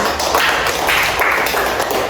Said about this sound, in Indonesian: Tepuk tangan dulu untuk Yohana.